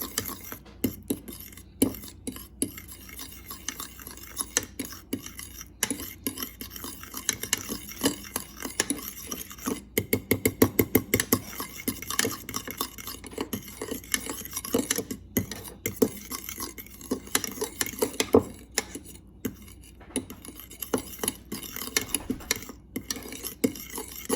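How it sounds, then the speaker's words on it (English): A spoon stirs a mixture in a bowl for fish tacos, steady rapid clinking and scraping against the bowl that continues close and clear for over twenty seconds. "Give this a nice stir."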